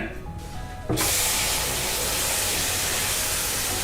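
Sugar syrup poured into hot atta halwa for kada prasad, a sudden loud hiss and sizzle that erupts after a quieter moment and holds steady and close to the end.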